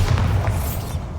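Hogwarts Legacy's Bombarda spell goes off as a full, rumbling blast that fills the short moment with a heavy low boom and a broad crackling wash that slowly fades.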